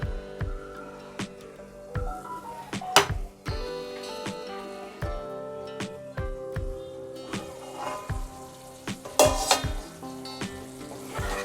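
Squid pieces fry Mangalore style in a pan with a steady sizzle, joined by sharp clatters and scrapes of a spatula stirring them at irregular intervals.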